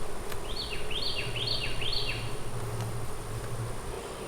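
Honeybees hum as a steady low drone from a beekeeper's hive, while four quick descending chirps ring out higher above it in the first half.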